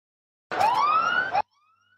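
A short siren wail rises and holds for about a second, loud and alone, sounded by the third umpire at a local cricket tournament match.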